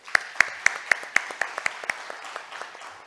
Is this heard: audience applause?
yes